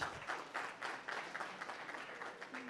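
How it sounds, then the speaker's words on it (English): An audience at a coaching talk on building executive presence gives a round of applause, a fairly faint, steady wash of clapping that rises and dips in small surges throughout. "So big round of applause for all of us."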